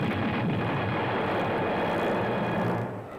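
Airplane in flight from an old sci-fi movie trailer, a steady loud broadband engine roar that holds constant for a few seconds before fading slightly at the end, with no talking.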